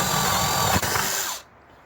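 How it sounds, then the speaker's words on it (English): Electric drill boring through a wooden guitar template, a loud whirring grind that runs steadily for over a second, then cuts off abruptly into quiet. "I'm gonna put it on the back side and just drill through."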